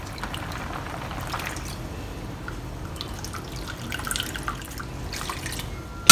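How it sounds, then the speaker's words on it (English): Water is poured into a pot of braising pork soft bones with potatoes, carrots and radish, a soft continuous trickling and splashing close by, with a few brighter splashes toward the end. "So I'm going to add in 2 more cups of water."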